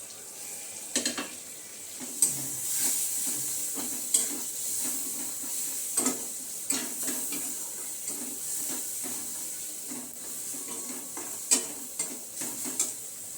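Cumin, chili and turmeric powders frying in a pan for dal, a soft sizzle under repeated sharp clinks and scrapes of a spoon against metal, fairly close, no voices.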